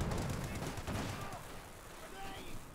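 Bursts of machine gun fire in a Company of Heroes 2 battle, rapid stuttering rattles mixed with other gunfire and explosions, heard under a commentator's voice throughout.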